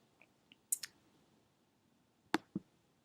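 A few crisp computer mouse clicks, sharp and close, spaced irregularly with quiet between them, clicking on a certificate option.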